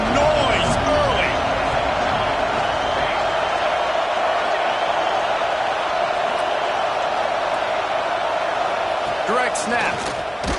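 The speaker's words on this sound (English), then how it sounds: "This crowd bringing the energy and noise early" Dense, steady roar of a stadium crowd at a Penn State football game, loud and continuous throughout, with no voices standing out.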